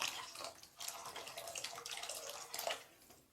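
Water is poured into a pan of pea kurma during cooking, a continuous splashing, trickling pour that briefly pauses and then resumes, fairly soft and heard alone.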